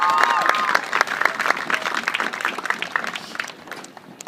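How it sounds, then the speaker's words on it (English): Crowd at a high school girls' soccer senior night claps and cheers outdoors, loud at first with some whistles and voices mixed in, then tapering off over a few seconds. "Let's have a round of applause for Bailey."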